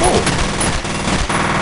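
Dense gunfire in the shooter game F.E.A.R., a loud continuous barrage of shots lasting the whole moment with no pause.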